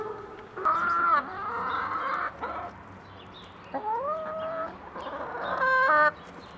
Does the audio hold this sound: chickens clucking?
yes